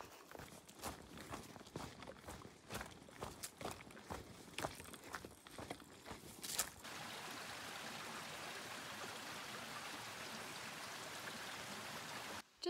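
A creek on a Pacific Crest Trail campsite flows in a steady close rush of water. Before it, a few seconds of scattered footsteps and rustling sound out, then the water continues alone and evenly to the end.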